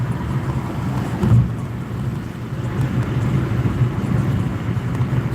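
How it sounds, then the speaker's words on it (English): Car driving on a road near the Hoover Dam and lake, a steady low engine and tire rumble with wind buffeting throughout, no talk. "Just driving, almost home."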